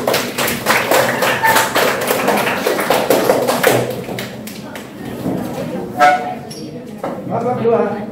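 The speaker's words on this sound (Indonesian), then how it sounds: "Oke, tepuk tangan untuk kelompok" A classroom group claps in brief applause for a presenting student group, a dense patter of hand claps that thins into scattered taps and then fades.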